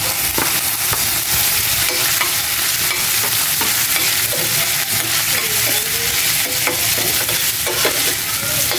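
Ginger sautés in hot oil in a pan, producing a loud, dense, continuous sizzle with crackling pops and stirring right up close, with no one speaking.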